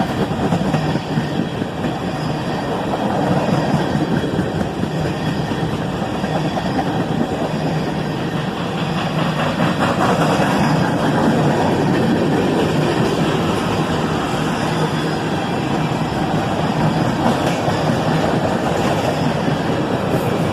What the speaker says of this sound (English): This train had tank cars everywhere, mixed in all along it.